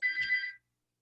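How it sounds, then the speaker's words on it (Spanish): A telephone rings once in a short, bright electronic trill that cuts off abruptly, heard alone and fairly faint. "un segundo que están llamando por teléfono"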